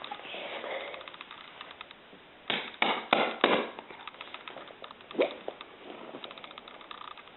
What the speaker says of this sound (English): Go ahead and hammer this out over here.